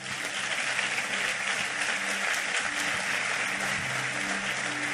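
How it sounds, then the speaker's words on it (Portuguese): A church congregation claps in praise to the Lord during a sermon, a steady, dense wash of applause that fills the room for several seconds without letup. "Aplauda o Senhor"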